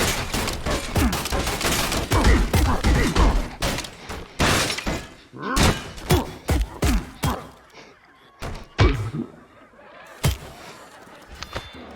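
Rock hurled at an enemy in the VR combat game Gorn, landing with loud crunching, shattering impacts among chaotic fight noise, with several heavy thuds scattered through the action.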